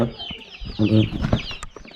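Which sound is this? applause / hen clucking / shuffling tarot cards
hen clucking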